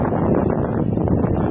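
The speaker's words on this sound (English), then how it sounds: "it's a little windy up here" Steady wind buffets the microphone on a rooftop during an antenna installation, a loud, continuous low roar with no pauses.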